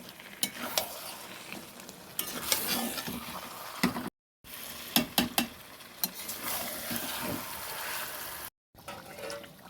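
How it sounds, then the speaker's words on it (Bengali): Chicken pieces sizzle in fried spice masala in a pan as a spoon stirs and scrapes them, steady frying crackle broken by clattering strokes and two brief silences, with no voices. "এবার চিকেনটা দিলাম এর মধ্যে। এবার চিকেনটা দিয়ে এটা কষাবো।"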